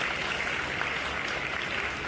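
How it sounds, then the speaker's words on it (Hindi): A crowd applauds at a comedy roast show, a short, continuous patter of many hands clapping at a constant moderate level without speech. "जो अपने माता पिता से प्यार करता हुआ ताली बजाए"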